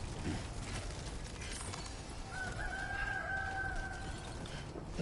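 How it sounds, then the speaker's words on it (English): A rooster crows somewhere in the Death Stranding 2 video game, one drawn-out call at middle distance over a steady ambient background. "Cockerel going off somewhere."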